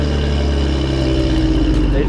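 A tuned vehicle engine running on a dyno with race gas, a loud, steady, droning roar held close throughout the short stretch.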